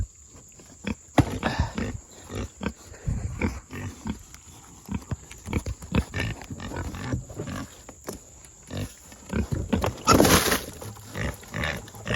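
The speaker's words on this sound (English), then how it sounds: "They are pigs." Pigs on a farm, grunting and snuffling at a feed spot near a electric wire, irregular low grunts at close range over a faint steady hum, with a brief louder rustle near the end and no talk.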